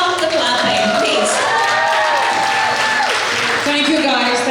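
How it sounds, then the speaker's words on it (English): An audience at a women's empowerment awards event claps and cheers under loud overlapping voices and chatter, the applause steady throughout. "don't stop the clapping"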